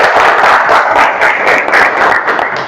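A classroom of students applauds, a dense, steady burst of clapping that holds at full strength for the whole stretch before easing slightly at the end, with no voices over it.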